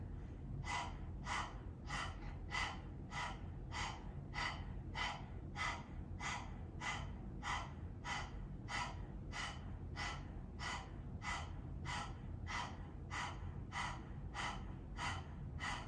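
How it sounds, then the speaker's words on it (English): Rapid, evenly paced panting breaths through the mouth with the tongue out, done during a chair yoga session; about twenty-five quick, close huffs repeat steadily without any talk. "Gently stick the tongue out, panting like a dog."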